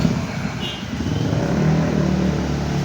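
Early-morning road traffic with motorcycles and tricycles fills the scene with a continuous mid-level engine drone and passing revs, close and steady throughout.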